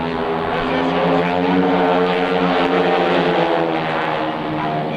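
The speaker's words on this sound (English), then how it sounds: "4 airplanes flying in the single unit." Four Red Baron Squadron propeller airplanes fly in formation at a 2002 air show at NAS/JRB Willow Grove, their engines making a loud, steady, droning roar that fills the whole stretch without pause.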